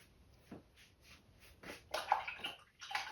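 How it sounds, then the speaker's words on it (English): A paintbrush is swished and rinsed in a water container between landscape painting strokes, giving soft repeated sloshes and splashes that build louder toward the end, close and quiet with no talk. "I'm going to rinse this brush out now,"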